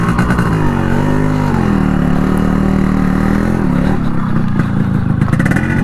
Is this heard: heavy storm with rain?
no